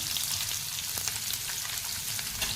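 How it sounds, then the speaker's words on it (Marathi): Sliced onion sautés in a pan with curry leaves, giving a steady, close hiss of frying that fills the whole stretch without any talk. "आणि हा कांदा आपल्याला परतून घ्यायचा"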